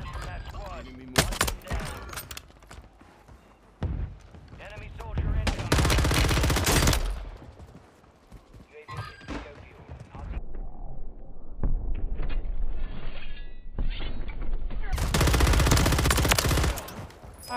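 Gunfire from the video game Warzone 3, reportedly an XRK sniper rifle, comes as several loud, heavy blasts spread out over time, with quieter game noise and action sounds in between.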